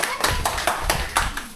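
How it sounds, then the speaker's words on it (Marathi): A small family group at a farmhouse gathering claps for the winner of a housie game, a handful of sharp, uneven hand claps at close range, with a voice speaking over them. "अरे टाळ्या वाजवा."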